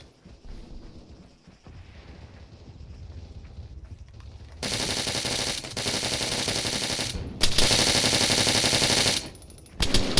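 Gunfire in a Halo mod of ArmA 3, starting with quieter ambience, then loud sustained bursts of automatic fire that run for several seconds with brief breaks, close and dense.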